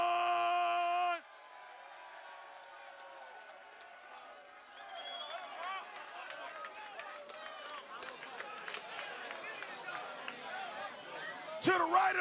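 Battle rap crowd cheering, whooping and clapping in a loud hall, the noise swelling after an announcer's introduction and peaking at the end.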